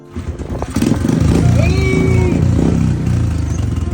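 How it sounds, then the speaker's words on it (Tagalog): A motorcycle engine starts up and settles into a loud, steady idle, with faint chatter mixed in. "start na natin yung motor na, sir"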